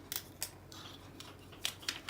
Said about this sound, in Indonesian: gunting